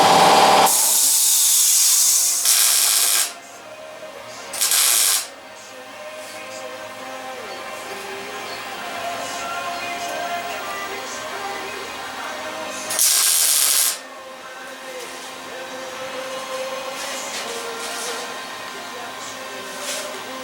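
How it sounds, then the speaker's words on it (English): Welding a flange onto a 1968 Triumph TR250 fender: loud bursts of hissing arc crackle, one long and several short, separated by quieter workshop background and tool handling, with someone speaking intermittently. "I'm going to try to weld this flange on this fender"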